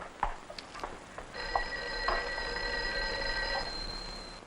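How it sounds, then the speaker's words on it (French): A telephone rings in an office in a French film, a bright electronic trill that repeats several times over quiet room tone. "Je crois que le téléphone sonne."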